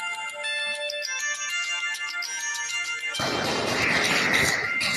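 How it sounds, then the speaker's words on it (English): A phone rings with a bright, melodic electronic ringtone for about three seconds, then is abruptly overtaken by a loud, noisy crash-like burst. "Oh, now the phone rang."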